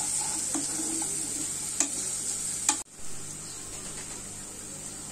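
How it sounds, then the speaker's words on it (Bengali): Onions fry with ginger garlic paste for a dhaba style chicken curry, an even sizzle punctuated by a few scraping stirs of a spoon, briefly dipping before resuming. "এবার এটাকে ভালো করে পেঁয়াজের সাথে কষে নেব"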